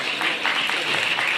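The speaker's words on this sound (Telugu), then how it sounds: "పిల్లలందరూ కూడా క్లాప్స్ తో శివప్రసాద్ కి స్వాగతం" Children at a cervical cancer vaccination event held in Repalle clapping together to welcome a guest, a brief, steady and fairly loud burst of applause.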